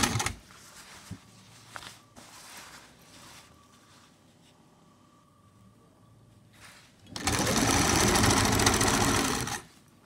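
A sewing machine stitches a long gown: after quiet mechanical clicks and handling sounds, the motor kicks in near the end for a loud, steady whirring run of about three seconds.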